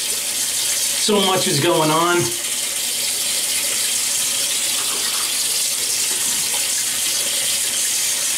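A bathroom tap runs in a steady, close stream as water is splashed onto the face before shaving; someone speaks briefly over the flow near the start.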